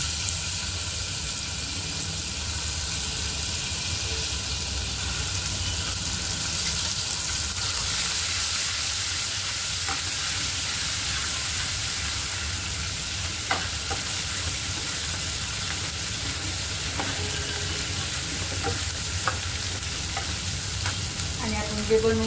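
Ginger garlic paste fries in a curry leaf tempering, giving a steady, close sizzle with soft hiss and a few faint clicks of stirring, and no talking.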